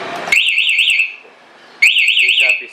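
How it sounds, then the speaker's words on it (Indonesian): An aftermarket one-way alarm fitted to a Yamaha NMAX scooter blares in two loud bursts of warbling electronic siren tones, separated by a short pause, heard up close. "Nah, alarm nyala, motor mati,"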